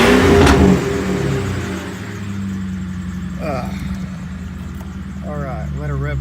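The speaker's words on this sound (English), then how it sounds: "Now you can hear the exhaust." A 1996 Ford Thunderbird 4.6L V8 with a muffler delete, raised on ramps, sends a loud, rough exhaust roar that spikes at the start and then settles into a steady rumble, with brief voices over it near the end.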